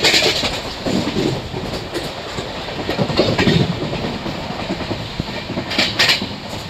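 Janmabhoomi Superfast Express 12805 arriving at Ramannapet station, rolling rumble and clickety-clack of the coaches heard from on board, with rhythmic wheel bursts over a steady loud rail noise.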